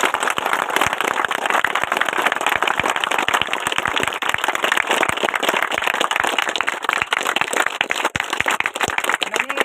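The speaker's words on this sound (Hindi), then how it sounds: "एक बार जोरदार तालियों से सूबेदार साहब का एक बार उत्साहवर्धन कीजिए" A crowd applauds continuously at a police batch event, a dense, crackling wash of many hands clapping at once that holds steady throughout.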